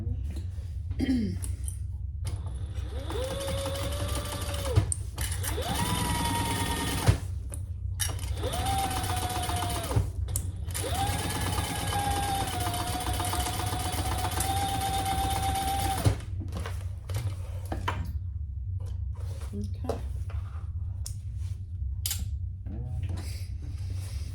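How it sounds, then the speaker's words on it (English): A sewing machine stitches the bottom pieces of a crossbody bag together, running in several steady whirring bursts with short pauses between them, close and fairly loud. "So now bring your bottoms together and we're going to sew those together."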